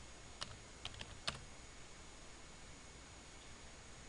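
A few quiet, separate key taps on a computer keyboard while a number is entered in CAD software, clustered in the first second and a half and then fading to steady background hiss.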